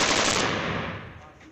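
Machine gun fire at a Pathan wedding in Pakistan: a single loud, broadband burst that decays over about a second and a half, with no voices.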